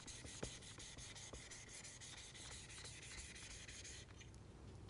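A spokeshave blade is rubbed back and forth across a sharpening stone, a continuous close gritty scraping with faint rhythmic strokes that thins out near the end.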